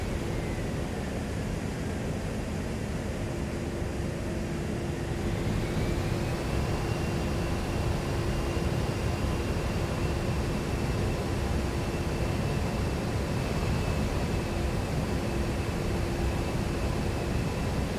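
Cockpit drone of an A-10C II Warthog in level flight near 240 knots in DCS World, a steady broad engine roar with a constant low hum and a whine that rises in pitch partway through and then holds.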